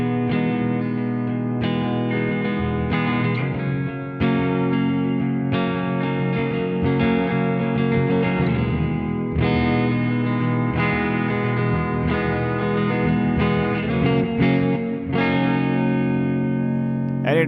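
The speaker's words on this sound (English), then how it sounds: "the hall reverb is something that I've always used on the strumming kind of situations" An electric guitar strums full chords through a NUX Verb Core Deluxe pedal on its hall reverb setting, each strum ringing out with a long, washy tail, in a steady rhythmic pattern played alone.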